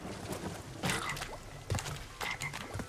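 A frog croaks repeatedly in a rainy level of the video game Crash Bandicoot 3: Warped on PS4, several loud, close croaks spaced irregularly over a wet, sloshing background.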